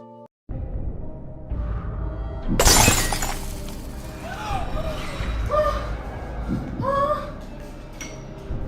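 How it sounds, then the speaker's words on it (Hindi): Glass shatters in a family home with a sharp, bright crash that breaks into scattered tinkling fragments, followed by people talking. "ये टूट गया। ये किसने तोड़ा?"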